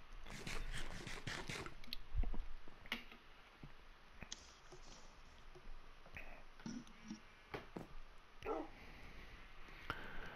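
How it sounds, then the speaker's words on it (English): A dog barks indoors, with a quick burst of sharp barks at the start followed by scattered clicks, taps and thumps nearby, all fairly faint and without talking. "did you let the doggy up here?"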